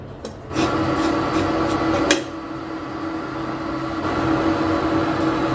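Dry wheat flour is stirred while dry-roasting in a hot pan with a continuous raspy scraping, broken once by a sharp knock of the spoon.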